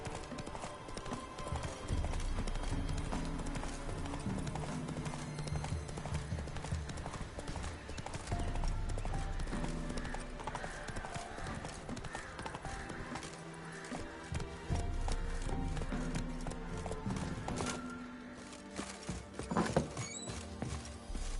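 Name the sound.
horse Roach galloping in The Witcher 3 video game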